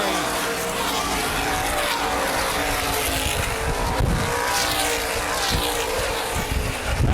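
Sprint cars in the Hoosier Outlaw Sprint Series at Baer Field Speedway roar down the back straightaway, a dense, loud engine wail that stays constant, with an announcer talking over it.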